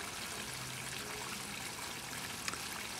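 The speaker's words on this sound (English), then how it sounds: "there's gray water right there from the shower entering into the system" Gray water from a shower flowing into a permaculture settling system beside a house, a steady trickling and pouring wash of water, moderately close and continuous with no talk.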